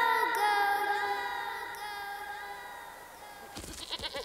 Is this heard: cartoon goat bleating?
yes